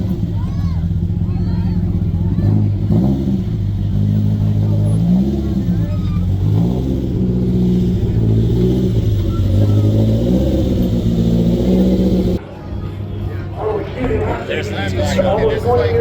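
A loud off-road race vehicle engine at the Mint 400 festival on Fremont Street revs and drones steadily with rising and falling pitch, crowd chatter underneath, then briefly drops before surging again.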